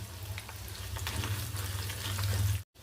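Guntur dried red chillies fry with chana dal and urad dal in hot oil, giving a steady, close sizzle that grows louder toward the end before cutting off abruptly, with no voices.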